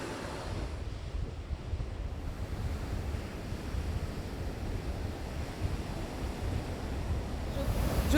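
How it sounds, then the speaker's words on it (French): Ocean waves breaking on a beach in Mozambique, a constant low rumbling wash of surf mixed with wind buffeting the microphone, steady throughout and building slightly at the end. "Il y a pas mal de vagues"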